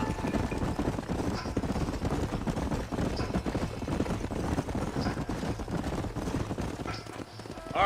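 Horses trot in Red Dead Redemption, a steady rapid clip-clop of hooves close by and continuous under faint game ambience, easing off near the end.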